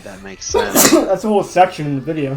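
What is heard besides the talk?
sneeze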